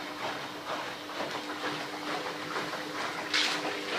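A repaired Daewoo washing machine drum turns to the right with a continuous mechanical whir and faint rhythmic churning, heard up close and steady throughout, with a brief brighter hiss near the end.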